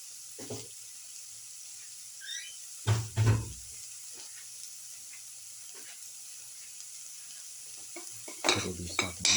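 A spiced mixture sautéing in a pan, with scattered spoon scrapes and stirring bursts over a faint low sizzle, close and quiet, and a louder clatter near the end.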